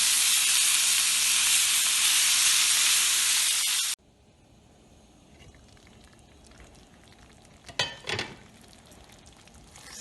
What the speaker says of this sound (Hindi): इसको 10-15 मिनट हम फ्राई करेंगे।